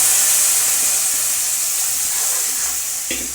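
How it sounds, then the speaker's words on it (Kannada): Sambar poured over a hot tempering of curry leaves and dried red chillies, for a drumstick-leaf breakfast dish, gives a steady close hiss and sizzle with a small clatter near the end. "ಸ್ವಲ್ಪ ಒಗ್ಗರಣೆ ಮಾಡಿಬಿಟ್ಟು ರೆಡಿ ಮಾಡಿರೋ ಒಂದು ಸಾಂಬಾರು ಹಾಕೋಣ"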